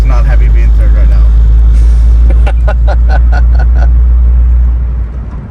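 A Nissan Skyline R33 with a swapped manual gearbox lugs in third gear at low revs, making a deep, heavy rumble inside the cabin. Someone talks over the drone throughout.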